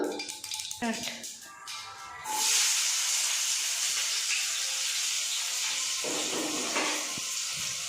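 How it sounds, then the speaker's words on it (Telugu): Onions tossed into hot oil that already holds crackling mustard seeds burst into a loud, sustained sizzling hiss that fades slightly toward the end. A voice talks briefly just before the sizzle starts. "ఇప్పుడు ఆనియన్స్ వేసుకుందాం."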